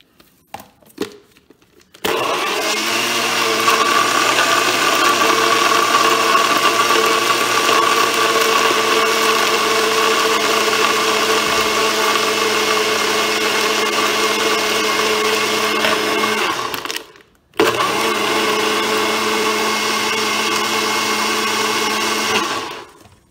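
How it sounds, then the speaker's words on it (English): A blender whirs loudly and steadily as it blends a drink with homemade vanilla extract. It runs for about fifteen seconds, cuts out, then starts again for a short final burst. "go ahead and blend that up real quick for a second"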